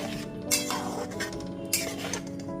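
Metal lid set down on a pan of pointed gourd curry with yogurt, two sharp clinks standing out over a steady low cooking hum in a home kitchen.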